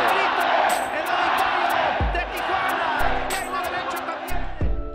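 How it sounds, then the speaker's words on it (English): Dense, loud boxing-arena crowd roaring and chanting a fighter's name Chavez, with rhythmic shouted bursts and low thumps over a constant wash of voices. "The whole crowd chanting Chavez"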